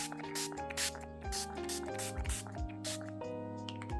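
Short hissing sprays of an ink spray bottle repeat at a steady pace, each a quick spritz onto a sketchbook page, over tonal background music.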